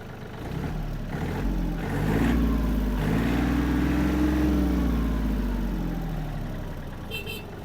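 A Yanmar AF-250 Japanese mini tractor idles with a steady low engine hum, swelling slightly in the middle and easing off, fairly close with no talking over it.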